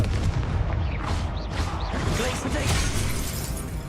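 Confringo fire blast spell from the Hogwarts Legacy video game: a dense, crackling burst of explosive, shattering booms and whooshes that roll on continuously at steady loudness.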